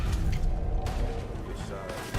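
Gunfire in the Red Dead Redemption 2 video game, a loud, dense stretch of overlapping shots and booms running through the whole moment, with voices talking over the fight.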